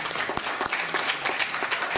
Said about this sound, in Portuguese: agradeço muito os aplausos